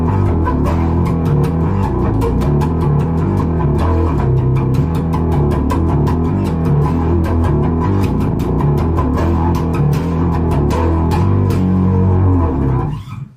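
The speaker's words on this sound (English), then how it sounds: "I also like to add a little bit of twist to that particular sound with a little bit of a flanger from the modulation section" Bass guitar played through a BOSS ME-50B multi-effects unit with flanger modulation, a loud sustained run of plucked notes with a sweeping, swirling tone, steady for about thirteen seconds before stopping.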